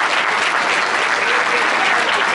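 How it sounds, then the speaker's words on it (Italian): An audience at a live show gives a short burst of steady, dense clapping that fills the room from start to finish. "Ora fate un applauso a questi quattro valorosissimi uomini."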